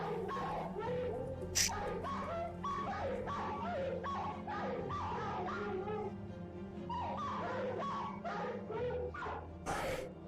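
Dogs shut in small cages bark, yip and whimper continuously, the calls overlapping in a busy, close chorus with a couple of sharper yelps standing out.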